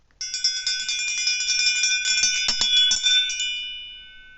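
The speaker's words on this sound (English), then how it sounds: "Now you're going to hear my bell ring" A bright metallic bell rings steadily with rapid repeated strikes for a few seconds, then fades into silence.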